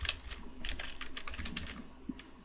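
Fingers type a blog post title on a computer keyboard: a quick, uneven run of close, light key clicks lasting a couple of seconds, with no talking.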